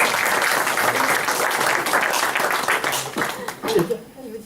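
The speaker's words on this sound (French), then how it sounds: "Je pense qu'on peut vous applaudir." Applause from a crowd, steady clapping that fades out near the end as a voice starts to speak.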